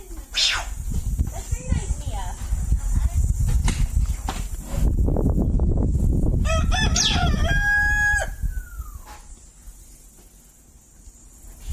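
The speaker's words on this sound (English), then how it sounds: "Chickens." A rooster crows loudly and close by with a drawn-out cock-a-doodle-doo, while chickens cluck and scratch around; people talk over the birds throughout.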